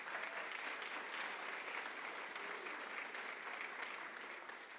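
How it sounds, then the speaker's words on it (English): Steady applause from an audience at a county colleges leadership summit, honoring student ambassadors at the back of the room; dense, even clapping fills the whole stretch and tapers slightly at the end. "Please give them a round of applause."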